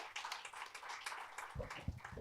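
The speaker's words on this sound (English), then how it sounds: "can I have a big round of applause for him," Audience at a panel discussion on inclusive hiring at an HR conference applauds steadily for a panelist, a dense wash of claps with a few louder thumps near the end.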